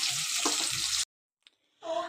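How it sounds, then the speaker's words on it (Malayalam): Mango pieces fry in coconut oil with a close, hissing sizzle that cuts off abruptly partway through. After a short silence the sizzle returns under a voice. "അപ്പൊ രണ്ടാമതും കൂടി മാങ്ങ വെളിച്ചെണ്ണയിലേക്ക് ഇട്ട് കൊടുത്തിട്ടുണ്ട്"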